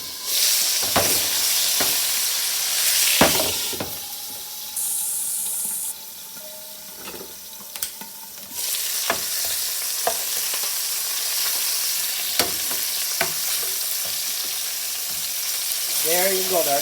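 Pork chops and potatoes fry together in a single pan with little oil, giving a steady close sizzle throughout, broken by a few clinks and scrapes of stirring and a brief burst of running water.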